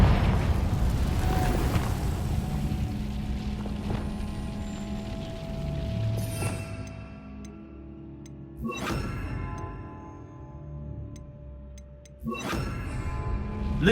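Confringo fire-blast spells exploding in Hogwarts Legacy, a rumbling blast followed by two sharp bursts spaced a few seconds apart, each ringing out and decaying over a quiet background.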